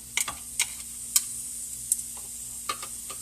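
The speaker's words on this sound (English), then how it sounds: "And let's do our stir fry. So in goes the onions" Onions stir-frying in a pan, a soft steady sizzle broken by a handful of sharp utensil ticks and scrapes against the pan, fairly quiet and close with no talking.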